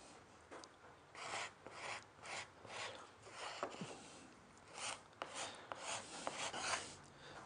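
Repeated rhythmic rasping strokes of a cabinet scraper across wood veneer on a hexagonal marquetry box, lifting off sticky tape squares and shavings, each close, dry pass separated by brief pauses.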